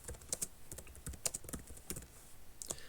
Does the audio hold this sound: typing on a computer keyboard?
yes